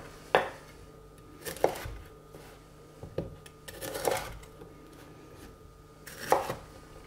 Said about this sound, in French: On va le détailler en petits morceaux.